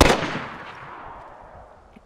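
A single loud gunshot in the video game DayZ cracks at the start, then trails off in a long fading echo into quiet.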